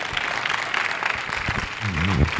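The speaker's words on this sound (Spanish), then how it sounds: "un fuerte aplauso" An audience applauds after a talk, a moderate spread of clapping heard at some distance, with a voice speaking over it near the end.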